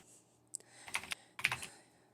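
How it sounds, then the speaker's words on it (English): A loud metal computer keyboard clatters in two quick bursts of sharp clicky keystrokes, close and alone with no talk. "His keyboard is a metal one, so it's loud."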